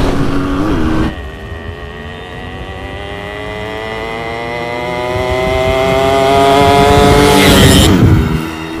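A Yamaha RX 100 two-stroke motorcycle in first gear revs hard and close, its raspy engine note rising steadily in pitch over several seconds before dropping off at the end.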